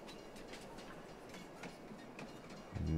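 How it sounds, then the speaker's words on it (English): A train in Farming Simulator 22 rolls along with steady rhythmic clickety-clack of wheels over rail joints, moderately close, ending in a sudden low rumble. "This will be my first time riding the train as well."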